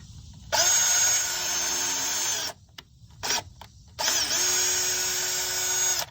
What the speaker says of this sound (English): Put on drill mode. Get this revolutions up so we can drill.